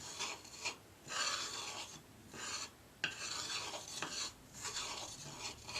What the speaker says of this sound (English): So I'm going to stir it all together.